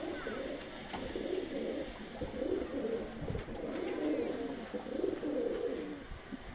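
High-flying pigeons kept by a hobbyist coo steadily nearby, their low, throaty rolling calls overlapping in repeated waves, with a faint chirp now and then.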